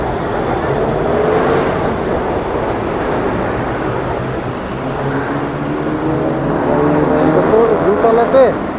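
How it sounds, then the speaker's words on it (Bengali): A metro train runs on the elevated line near MBK Center in Pratunam, Bangkok, a steady mechanical rumble and rolling rail noise building toward the end, heard outdoors amid street traffic hum with someone talking over it. "এই যে দেখেন মেট্রো একটা যাচ্ছে"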